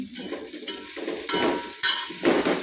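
Amla frying in oil together with cooked onions: bright, loud crackling sizzle that swells in waves as the pieces are stirred, with a few soft scrapes in the pan and no talking.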